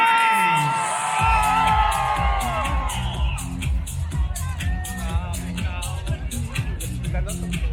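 A large crowd at the Dubai Run fitness event cheers and whoops loudly over pumping music, a broad roar of voices with scattered shouts that holds steady throughout.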